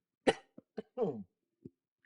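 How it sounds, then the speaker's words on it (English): Several harsh coughs, close and loud, spaced irregularly with short silences between, the last one softer. "I'm coughing like crazy"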